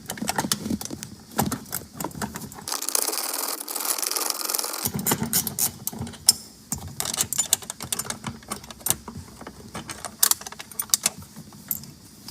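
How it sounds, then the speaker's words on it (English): Rapid, close clicking of a ratchet working on nuts holding a Nissan Maxima SRS airbag control module, in irregular bursts of sharp ticks with brief pauses between. "we're going to start working on these 3 nuts right here"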